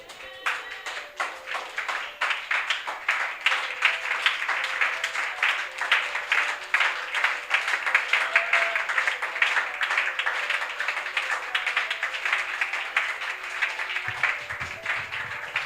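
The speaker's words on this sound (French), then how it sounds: "Lèvons-nous et acclamons fortement notre Seigneur." A church congregation applauds the Lord during a worship service, steady loud clapping from many hands that carries on without a break for the whole stretch.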